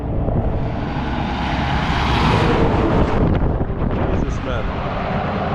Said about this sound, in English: That's quite some wind.